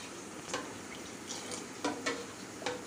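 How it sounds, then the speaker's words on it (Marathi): Kadhi, a yogurt curry, is stirred in a pot after water is added, giving a few soft, scattered scrapes and clinks of a spoon against the pot over a quiet, faint background. "पाणी टाकल्यानंतर छान मिक्स करून घ्यायचं आहे."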